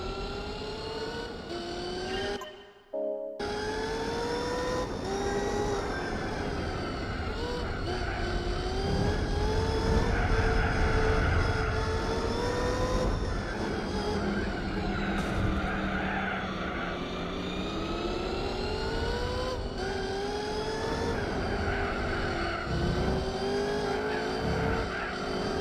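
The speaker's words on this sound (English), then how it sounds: "Here we are, it's a race of Shelby Cobras." Shelby Cobra race cars snarl around the track in Gran Turismo 4. Several engines rev and shift gears continuously with tire squeal mixed in, and a brief dropout comes near the start.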